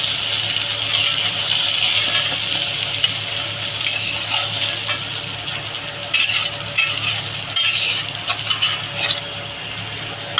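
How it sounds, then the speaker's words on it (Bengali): Prawns frying in oil in a wok, a continuous loud sizzle with scraping and stirring throughout, steady and close, with no voices. "বন্ধুরা আমার মাছগুলো প্রায় ভাজা হয়ে গেছে"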